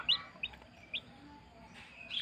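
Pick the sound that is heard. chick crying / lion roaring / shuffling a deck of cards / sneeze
chick crying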